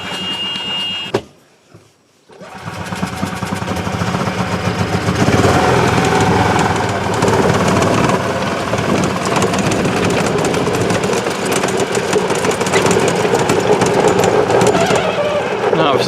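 A golf cart's Honda GX390 or Predator 420 engine, with manual choke, turns over briefly and then catches, settling into a loud, close, steady chugging run with a faint pause before the start.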